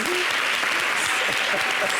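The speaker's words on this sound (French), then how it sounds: "applaudissez-le, applaudissez." Studio audience applauding on a television talk show set, steady dense clapping filling the whole stretch with a voice speaking over it.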